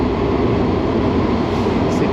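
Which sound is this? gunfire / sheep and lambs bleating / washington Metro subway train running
washington Metro subway train running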